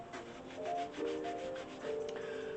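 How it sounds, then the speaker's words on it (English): A finger rubs white paint across a surface, giving a steady, close scraping friction that swells and fades in several strokes with faint tonal squeaks; no talking. "Take my finger and rub it a little bit."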